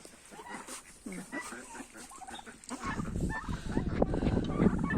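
Turkeys and other released poultry in a farmyard, toms strutting among hens, giving dense overlapping gobbles and clucks that build louder in the second half, with some background voices.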